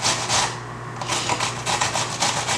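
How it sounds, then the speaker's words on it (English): Food scraped across a hand grater in quick, rhythmic rasping strokes, close and clear, while making Barbados black pudding and souse in a home kitchen, with a low steady hum behind. "you'll use this side of the grater and you'll just grater it like that"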